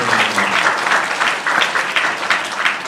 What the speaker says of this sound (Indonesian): tepuk tangan semua untuk pencak silat Indonesia